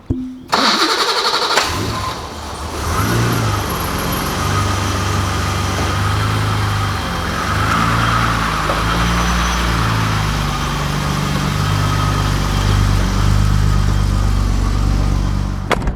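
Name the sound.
BMW E28/E30 car engine starting and pulling out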